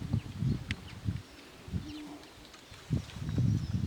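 Young pigeons coo in a loft with soft, low, repeated murmurs in short bursts, fairly near and quiet, with a few faint chirps between them and no talk.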